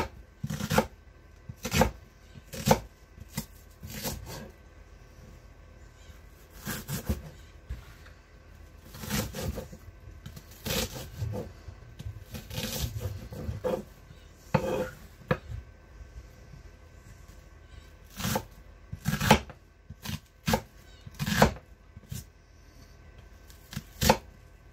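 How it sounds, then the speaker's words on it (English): Food is chopped with a knife on a cutting board at home for dinner: sharp, close knocks come in irregular bursts and short runs with quiet pauses between, with no talk. "I'm gonna just cut this up."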